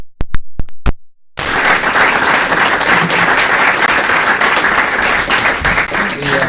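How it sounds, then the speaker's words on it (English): After a few sharp isolated claps, a full room of applause breaks out for three candidates at a 2019 candidate forum, dense and sustained until the end. "And again, a round of applause,"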